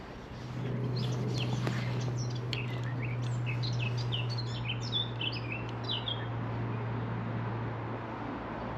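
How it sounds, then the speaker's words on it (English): A bird sings outdoors beside a fishing spot on a cold, windy day, in a run of quick chirping phrases over a steady low hum and breezy background noise. "I'm not sure what bird that's singing there"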